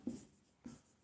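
Pen strokes on paper during a history lesson, three short scratchy bursts spaced about half a second apart, quiet and close with no talking over them.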